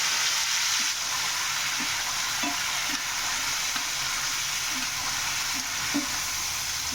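Vegetables frying in a pan for thotakura ulli karam, an amaranth-greens and onion dish with tomatoes, producing a continuous close, even sizzle with faint scattered low ticks throughout.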